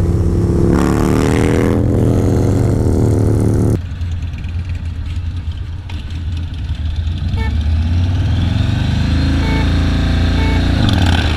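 A V-twin cruiser motorcycle with a new exhaust, either a Yamaha Raider 1900 or a Suzuki M109R Boulevard 1800, rumbles loud and close, with a revving blip early on before settling into a deep, steady idle.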